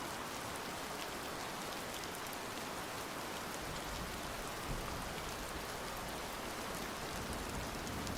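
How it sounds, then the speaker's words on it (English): Steady rain falling on surfaces, a dense even hiss with faint scattered drops, constant and unbroken throughout with no voices. "Love the rain sounds."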